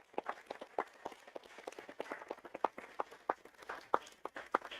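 Sparse clapping from a small audience at a city council meeting, individual claps clearly separated and fairly faint, honoring a group of women.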